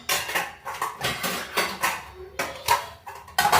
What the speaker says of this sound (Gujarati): વાસણ ગોઠવાઈ ગયા